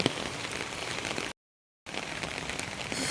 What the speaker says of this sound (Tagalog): kaninang umaga pa umuulan